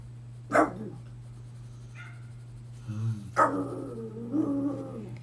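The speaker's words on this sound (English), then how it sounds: "The dog's just barked outside again." A dog barks outside, two sharp, moderately distant barks a few seconds apart with a short whine after the second, over a steady low hum indoors.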